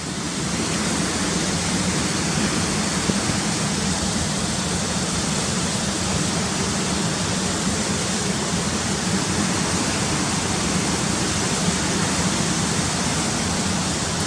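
Cotter Force waterfall pouring in a steady, dense roar of rushing water, loud and close, unbroken for the whole stretch with no voices.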